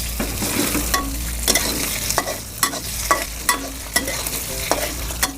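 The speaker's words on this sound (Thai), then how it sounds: "ถั่วเราจะใส่ไปเลยนะคะ ใส่ผัดไปเลยเนาะ" Pad thai being stir-fried with peanuts in a hot pan after aromatics are fried, a steady sizzle broken by repeated sharp scrapes and clacks of a spatula against the pan, close and fairly loud, with no talking.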